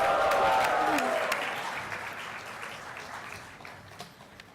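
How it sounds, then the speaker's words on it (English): Conference audience at an inauguration and keynote address applauds, a loud burst of many hands clapping that gradually fades away over a few seconds in a large hall. "Yes, I'll clap for that"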